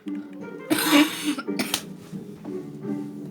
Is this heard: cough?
yes